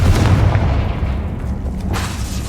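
A Confringo blasting curse in Hogwarts Legacy, a loud booming burst with a heavy low rumble that decays over a couple of seconds, followed by a softer secondary whoosh.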